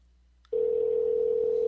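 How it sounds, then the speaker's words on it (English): A steady telephone ring tone comes through a handset after a short click, holding at one even pitch with no voices. "I hear it ringing."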